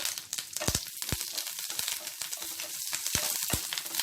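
Curry leaves drop into a little hot oil for a fresh coconut chutney tempering, crackling with sharp pops and a close, uneven sizzle over a few seconds, with no talk.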